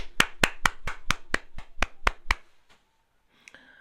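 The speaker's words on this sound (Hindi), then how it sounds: "सबसे पहले करण की पीआर टीम के लिए जोरदार तालियां" About ten sharp, evenly spaced hand claps ring out close and clear over roughly two seconds, then stop, leaving near silence with a faint trailing sound.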